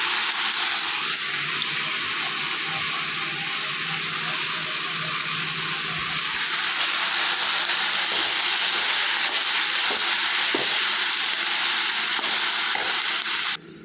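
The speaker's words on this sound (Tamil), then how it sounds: "இப்போ பாருங்கள், கருவேப்பிலை வதங்கிடுச்சு." Curry leaves sauté in hot oil for chutney, giving a constant hissing sizzle that stays loud and even throughout, with faint clinks of stirring underneath.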